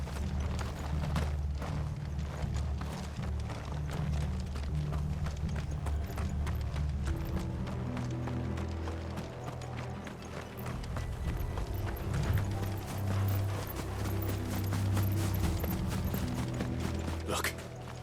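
Steady clip-clop of horse hooves trotting throughout, with creaking and rattling mechanisms mixed in, fairly close and continuous, in the video game Final Fantasy XVI.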